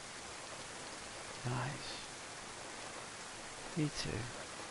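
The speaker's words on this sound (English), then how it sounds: "Love the sound of the rain though." Steady rain hiss in the DayZ video game, a broad continuous wash of falling drops, with two brief bursts of voices breaking in over it.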